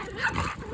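A dog on a street gives a short, loud bark-like yelp with whimpery tones, close by, with no talk over it.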